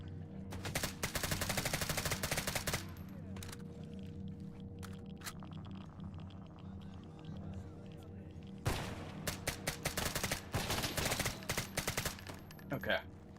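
Rapid bursts of gunfire ring out in the S.T.A.L.K.E.R. GAMMA video game, with dense volleys at the start and again in the second half, separated by a quieter stretch of low ambient game noise.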